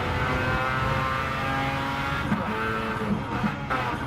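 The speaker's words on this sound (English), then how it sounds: "Rotary engine, just completely different to everything else. Motorcyclish." A rotary-engined race car in a racing video game screams continuously at high revs on the Brands Hatch circuit, a loud buzzing, motorcycle-like drone with brief tyre squeals near the end.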